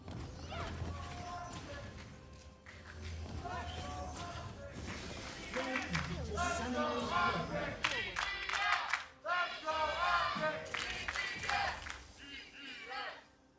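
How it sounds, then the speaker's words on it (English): A large crowd at a League of Legends esports match cheers and roars in swelling waves, loud and close, with shouts rising above the din. "Shout out the crowd, cheering on the favorite teams."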